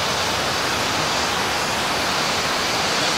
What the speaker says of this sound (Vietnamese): dưới này dòng suối này, cái suối to đấy ông nhỉ